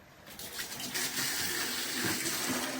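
Water gushes through a homemade low-cost PVC pipe water purifier in a steady splashing stream that starts after a brief pause and keeps pouring evenly.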